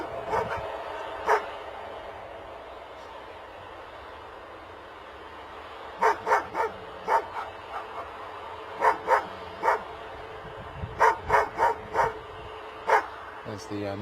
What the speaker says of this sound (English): We're going to get barked at again now